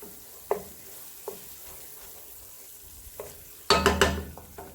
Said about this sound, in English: I'm going to add a little bit of wine, not very much, just a little bit. Again, kind of to deglaze the pan